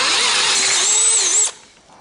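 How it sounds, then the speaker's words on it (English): A power drill bores a pilot hole for a screw while building a trailer tailgate, running at a steady high whine for about a second and a half before cutting off abruptly and spinning down. "if you can drill a pilot hole, it'll help it continue to bite because it protects that tip"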